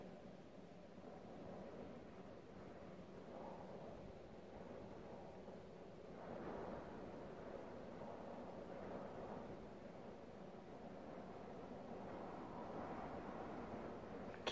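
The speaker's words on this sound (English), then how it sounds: "I think we're getting gusts up to about 25 miles per hour today." Steady wind noise fills the space around a parked van in gusts near 25 miles per hour, a continuous broadband roar that swells in stronger pushes at intervals, with no voices.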